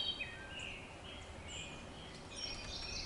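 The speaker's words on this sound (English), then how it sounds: "The wood thrush is an awesome bird." A wood thrush sings faint, flute-like phrases from a distance on a wooded heritage trail, its notes rising intermittently over a steady hiss of outdoor background noise.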